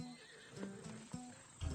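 A horse whinnies in Assassin's Creed Odyssey, a short neigh with a few wavering cries over a low, steady game ambience, ending in a louder close snort or rumble.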